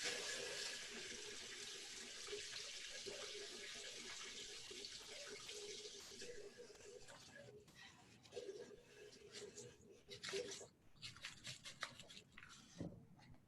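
Cold water runs from a kitchen tap in a steady, soft hiss that shifts and splashes near the end as the flow changes, quiet and without talking.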